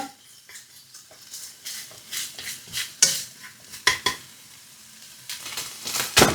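Canned tuna and pepper stirred quickly in a pan, with a run of scraping, clinking utensil strokes over a light sizzle and a few sharper knocks against the metal.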